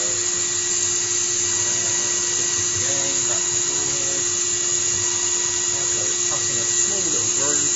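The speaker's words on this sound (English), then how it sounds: "Cutting a small little groove in the board, head up, spindle off." CNC milling machine spindle cutting a small groove into a printed circuit board, a steady high-pitched whine with a constant tone running throughout, close and loud.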